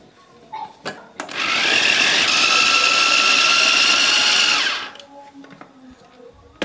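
Electric chopper motor grinding boiled ingredients, a loud steady whir that starts abruptly, runs for about three and a half seconds and cuts off, with faint kitchen clatter before and after.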